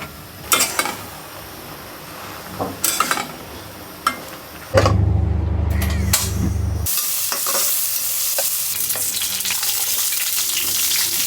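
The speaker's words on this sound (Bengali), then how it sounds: "পেঁয়াজ কাঁচামরিচ রসুন পনির শাকটা ওই যে চিংড়ি মাছ দিয়ে রান্না করব তেলের উপরে আগে ভেজে নিচ্ছি" Onion, green chilli and garlic frying in hot oil, a cooking step before greens and prawns go in: scattered clinks and stirring, then a loud, steady, close sizzle that hisses on to the end, with no voices.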